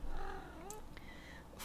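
A house cat purring close by, a soft continuous low rumble with a brief faint tonal vocal sound partway through, quiet room background and no speech.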